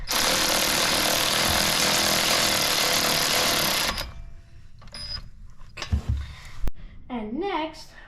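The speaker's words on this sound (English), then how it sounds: "an electric ratchet." Electric ratchet spinning off front brake caliper bolts on a 2015 Toyota Highlander, a loud continuous whir filling the first four seconds, then stopping into quieter clanks and handling noises.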